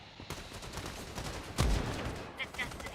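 Gunfire in a shooter game crackles steadily with dense, rapid shots, punctuated by one heavy, booming blast near the middle and lighter pops afterward.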